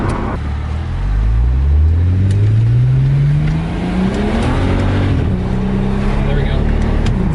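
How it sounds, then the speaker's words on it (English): BMW 135i engine misfiring while driving, a loud engine rising in pitch as it accelerates hard, with an uneven stuttering note and wind noise around it and a voice speaking over it. "There we go. It's a misfire."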